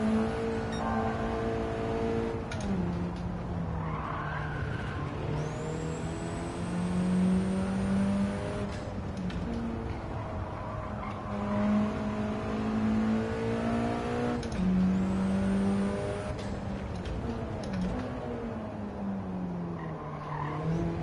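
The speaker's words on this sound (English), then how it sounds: "even out of the box, this car handles great" A car in Gran Turismo 7 revs hard and races, engine pitch climbing and dropping through repeated gear shifts, with tire squeal and skidding over a loud, continuous roar and no talk.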